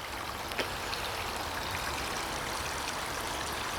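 Rainwater flowing across a back yard after rain, a steady, close rushing and trickling of water that continues without break.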